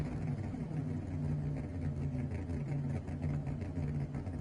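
Shelby Cobra engine in Gran Turismo Sport on PS4 VR, racing a Ford GT with manual transmission: a steady, loud low engine drone that holds evenly throughout with no talk over it.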